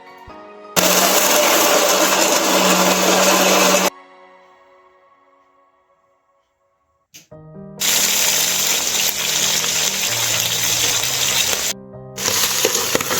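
A mixer grinder whirs loudly, grinding village-style masala for a mutton or chicken curry, in two long bursts separated by a few seconds of fading quiet.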